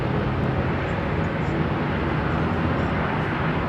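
A KLM Boeing 777 airliner at London Heathrow gives off a loud, continuous, broad jet roar that holds steady from start to finish.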